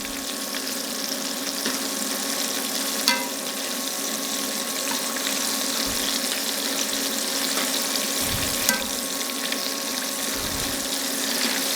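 Chicken pieces fry in a pan with a steady, bright sizzle held at an even level throughout, broken by a few faint clinks and stirring knocks and no talking.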